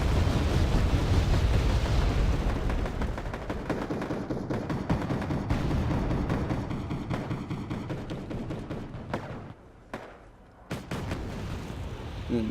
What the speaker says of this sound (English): Those lead executions getting completely barraged by the mortars.